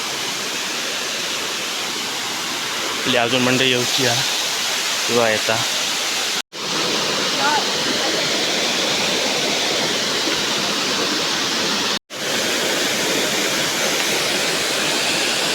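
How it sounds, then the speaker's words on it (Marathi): Chirekhan waterfall in Natal village rushes in a loud, constant broadband roar, close and unbroken, with a short stretch of talk early on layered over the torrent. "आपलं चिरेखानचा धबधबो"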